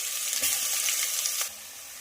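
Ginger-garlic paste with whole spices fries in a pan, giving a close, bright sizzling hiss with a couple of soft stirring scrapes. The hiss drops quieter near the end.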